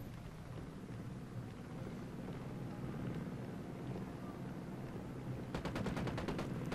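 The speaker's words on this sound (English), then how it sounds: "Is that someone shooting? It is." Distant gunfire in Ghost Recon Wildlands: a quick burst of faint, evenly spaced shots crackles near the end over low rumbling ambience, with a voice murmuring earlier.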